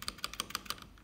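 Keys clicking on an Ajazz 75% keyboard, the caps lock key among them: about eight quick, crisp taps in a fast, uneven rhythm, close and fairly quiet, with no talking.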